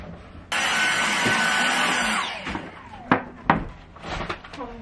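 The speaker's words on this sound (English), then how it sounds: "I'm gonna grab the Dyson and vacuum right here" A Dyson vacuum cleaner switches on with a sudden loud whine, runs for about two seconds, then cuts off, followed by knocks and clatter as it is handled, with speech underneath.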